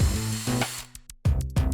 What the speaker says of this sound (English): Now it's time to drill pilot holes to ensure the wood doesn't split from the screw.